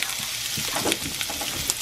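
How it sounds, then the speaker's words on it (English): Garlic sizzling in hot oil, a steady close crackle with small pops throughout. "Nice little sizzle we have there."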